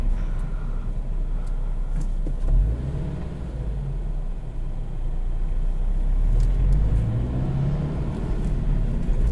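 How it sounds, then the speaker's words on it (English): A 2020 Subaru BRZ with a manual gearbox heard from inside the cabin as a low engine rumble rising and falling through gear changes, swelling with acceleration near the middle and end, and no talking. "Rev match downshifts are a piece of cake."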